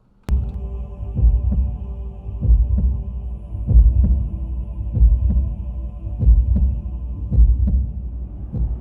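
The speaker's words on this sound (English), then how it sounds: "What is that, a heartbeat?" A giant Cybertronian heartbeat from a cartoon, rendered from data converted to audio, thuds in a steady slow double pulse, deep and booming over a continuous low hum, loud and alone.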